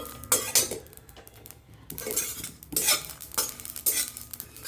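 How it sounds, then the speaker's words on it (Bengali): Panch phoron spices being stirred in a pan on the stove for a pumpkin chhokka, a spoon scraping and clinking against the metal in short uneven bursts over a soft sizzle, close and fairly loud with no talking. "হালকা একটু নাড়াচাড়া করতে হবে"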